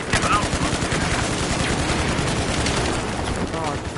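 Sustained automatic gunfire in a survival video game, dense rapid bursts of shots filling the whole stretch, loud and close with no talk over it.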